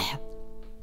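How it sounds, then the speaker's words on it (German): One short, wet, phlegmy cough from someone with a cold, close and alone, lasting under a second. "richtig schön verschleimter Husten"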